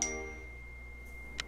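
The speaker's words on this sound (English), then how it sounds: "that is my phone going off" A mobile phone notification chime sounds once at the start, a short bright tone over low game music, with a faint second ping near the end.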